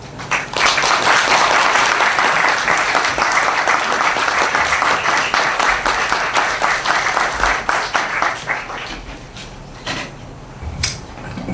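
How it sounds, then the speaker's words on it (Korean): Sustained audience applause fills a seminar hall as a guest speaker from a university is welcomed at a theology seminar, loud and dense, tapering slightly toward the end with a few scattered claps. "박수로 환영해 주시면 감사하겠습니다."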